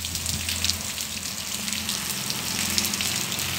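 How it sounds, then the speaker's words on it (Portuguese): Steady rain falls over the town of Murici in Brazil's Northeast, an even close hiss of drops pattering on surfaces without a break and with no voices. "chovendo aí, graças a Deus, chuva, bastante chuva aqui na região"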